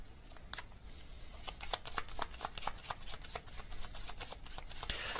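A deck of tarot cards is riffled and shuffled up close, giving a steady papery flutter with repeated snapping bursts over a soft background hiss.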